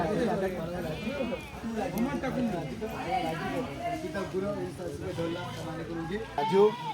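A goat brought as a vow offering at a Konkan Shimga festival gathering bleats several times amid a busy crowd, with people talking loudly around it.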